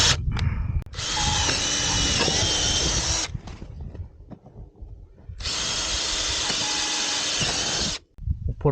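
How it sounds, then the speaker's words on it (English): Power drill boring holes into a split stock tank, running in two long loud bursts of about two and a half seconds each, separated by a quieter pause with faint handling noise. "Now we need to take the drill and drill 8 holes."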